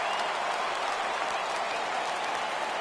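A stadium crowd in the baseball video game MLB The Show 17 rising for a 3-2 count, a steady broad roar of cheering and applause at an even level, faint and distant-sounding throughout.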